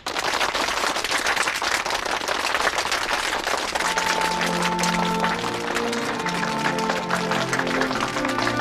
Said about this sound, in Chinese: 别鼓掌了，就别鼓掌了